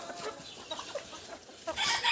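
Chickens cluck in short bursts with a rooster's sharper calls mixed in, close by, amid scratchy farmyard background noise.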